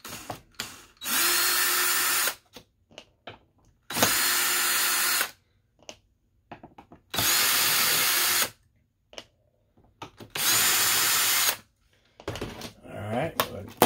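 A power drill backing screws out of a mini keg Bluetooth speaker, four loud sustained whirring bursts of about a second and a half each with short quiet gaps and small clicks between, then a voice speaks near the end.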